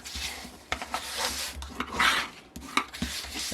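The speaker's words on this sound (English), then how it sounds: "So burnishing everything up." Box edges are burnished by hand, giving short, close rubbing and scraping strokes in an irregular rhythm, some brief and some drawn out.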